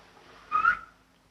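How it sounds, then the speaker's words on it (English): A person whistles a single short signal, clear and fairly close, rising briefly and then stopping, with quiet background before and after. "He whistled. As he did yesterday."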